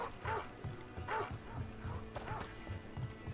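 A dog in the fantasy video game Dragon Age: The Veilguard gives a run of soft, repeated barks with whimpering yips between them, fairly faint over a low background hum.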